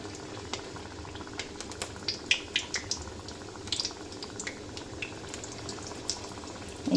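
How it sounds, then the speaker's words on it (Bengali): Thekua dough pieces frying in lightly heated oil over a low flame, with soft, steady bubbling and scattered small crackles and pops, fairly quiet and close. "তেলটা দেখো হালকা গরম হয়ে গেছে, আর আমি এবার একটা একটা করে দিয়ে দিচ্ছি ঠেকুয়াগুলো"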